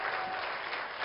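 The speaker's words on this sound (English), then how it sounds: "I think nobody deserves a bigger cheer right now than them" An award ceremony audience applauds steadily, a dense wash of clapping with some cheering that holds at an even level for about a second.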